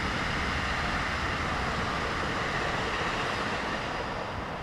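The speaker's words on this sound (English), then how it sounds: "All right, there goes NJ Transit." An NJ Transit train passes by, a steady, loud broadband rumble and rush of wheels on rails that holds at near-constant strength throughout, with no voices over it.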